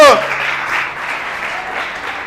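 A church congregation breaks into steady, dense applause for the Lord, a broad wash of many hands clapping together at fairly loud volume, following a brief voice at the very start.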